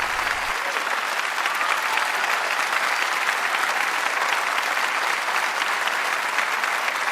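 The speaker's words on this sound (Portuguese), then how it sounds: "vamos recebê-la com um forte aplauso e com todo o nosso amor" A church congregation applauds loudly and steadily to welcome a guest. Dense, continuous clapping fills the whole stretch without a pause.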